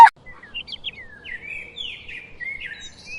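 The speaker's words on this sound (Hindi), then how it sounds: "पक्षियों की चहचहाहट" Several birds chirp and tweet in the morning in a cartoon countryside scene, bright, quick calls overlapping at moderate loudness after a brief sharp onset, with no talk.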